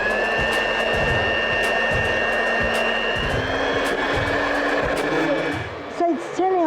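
A heated cosmetic cream being whisked with an electric whisk: a loud, steady motor whine with rhythmic ticking from the beaters, which slows and stops near the end.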